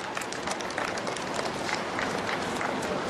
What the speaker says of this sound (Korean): 자, 다시 한번 힘찬 박수로 수고하셨습니다.